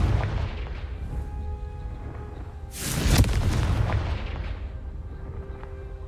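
A Confringo fire spell explodes in the Hogwarts Legacy video game: one loud burst about midway through, rising over a steady rumbling background and fading into a lingering roar.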